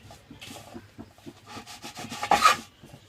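A knife saws through the crust edges of bread slices with soft, repeated rasping strokes, faint and close, ending in one slightly louder scrape.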